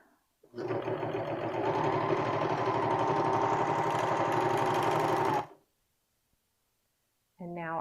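A sewing machine or serger runs steadily for about five seconds, stitching the edges of a T-shirt together into a circle. The whirring is close and loud, with a brief silence after it stops before the motor starts again.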